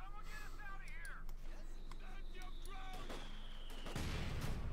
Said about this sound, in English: mortar opening up